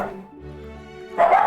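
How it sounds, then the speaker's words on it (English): A dog barks in short bursts, one sharp bark near the end standing out over a softer, tonal whine before it. "They are barking up a storm today."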